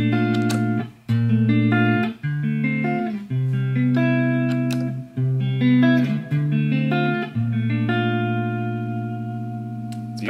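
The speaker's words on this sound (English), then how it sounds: "And this would be my reverb." Guitar played through a Black Lodge reverb pedal: a series of sustained chords and notes, each blooming into a long shimmering wash of reverb that carries between strums and trails off at the end, with no talking.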